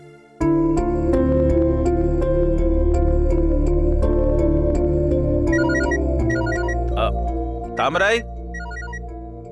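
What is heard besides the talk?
phone ringtone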